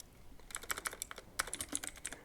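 Keys clatter on a computer keyboard in a short, uneven burst of close, crisp clicks with brief pauses, with no talking.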